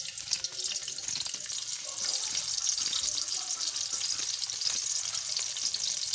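Onions sizzle and fry in a wok (kadhai) while making an egg and potato curry, a steady hissing crackle at moderate volume with faint clinks of stirring.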